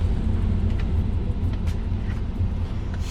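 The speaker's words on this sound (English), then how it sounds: "I'm going to show you how it is to drive a bulletproof car" A bulletproof armored VW Beetle is driven on roads in Brazil, its engine and road noise forming a steady, loud low rumble that continues throughout with no talking.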